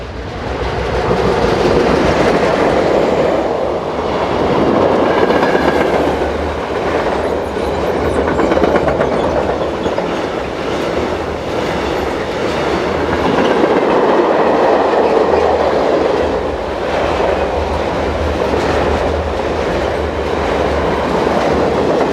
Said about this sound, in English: with numbers 11251 and 11189 paired up on train 62589 the 1937 from Biel to Limmatal